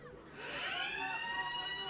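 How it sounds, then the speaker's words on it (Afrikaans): A faint full-time siren wails in the distance at a school under-15 rugby match, a steady rising tone heard far off across the field. "Dan is daar er 'n voltydse sirene wat loei in die agtergrond"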